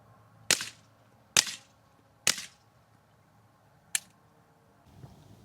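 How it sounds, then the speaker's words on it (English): Suppressed gunshots are picked up by a microphone placed downrange at the target, four sharp cracks spaced irregularly with short decaying tails, heard from a distance against quiet outdoor background. "So we'll go ahead and do 3 shots from here"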